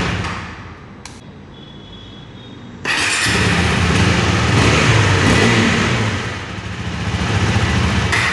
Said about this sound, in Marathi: तुम्हाला मी आता गाडी ही स्टार्ट करून दाखवतो